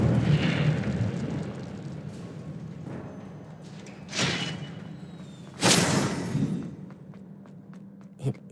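In the Hogwarts Legacy video game an Incendio fire spell goes off as a couple of sudden whooshing bursts over a low rumbling ambience, loud and close with quieter gaps between.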